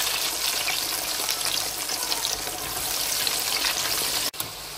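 Fries frying in hot oil make a loud, dense, continuous sizzle and crackle, close up, with a brief dip near the end.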